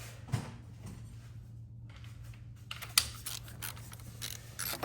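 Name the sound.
tightening a bolt with a torque wrench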